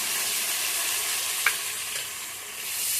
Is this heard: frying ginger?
yes